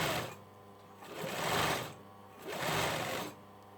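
A sewing machine stitches a hoodie's hood lining to the outer fabric about 6 mm from the edge, running in two steady whirring bursts of a little over a second each, separated by a short pause, with no talking.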